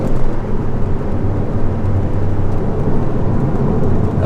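A classic Alfa Romeo engine roars loudly under heavy throttle accelerating up a hill, a dense rumbling drone with wind buffeting that stays strong throughout.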